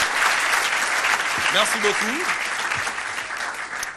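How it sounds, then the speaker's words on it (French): Loud, continuous applause from an audience cheering performers at a stage show in Matadi, steady throughout, with a voice briefly speaking over it in French. "Eh bien, on applaudit très fort pour ces messieurs."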